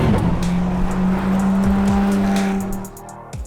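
Ford GT Mk IV supercar at speed, its 800bhp engine droning loud and steady with rising and falling pitch through gear changes, near and continuous without talk, easing off at the end.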